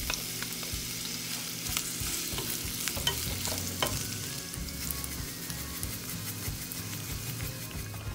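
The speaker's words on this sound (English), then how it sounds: "let's caramelize the onion" Sliced onions cook down in a frying pan for homemade In-N-Out style burgers, giving a steady close sizzle with scraping and stirring clatter throughout, no voices.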